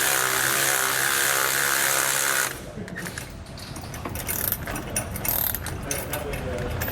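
A ratchet snugs up the bolts on a Roadmaster Reflex steering stabilizer on a 2017 Newmar motorhome, heard as a short burst of close clicking that follows a couple of seconds of steady broadband hiss.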